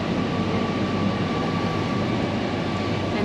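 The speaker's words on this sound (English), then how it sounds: "This metro system is great, and we should be arriving in the Lulu Mall stop very soon" A Kochi metro train nears the Edapally (Lulu Mall) stop in Kerala, India, heard as a continuous close rumble and whirring hum from on board, steady throughout with a faint tonal whine.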